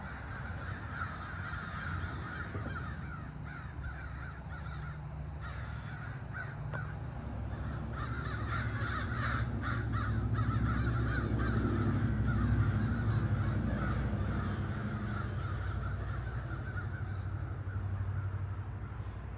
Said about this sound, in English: while I'm working out here under the shed, they're back